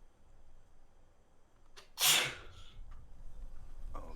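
A single sharp, forceful human sneeze bursts out close by after a quiet stretch, followed by faint breathing and background noise.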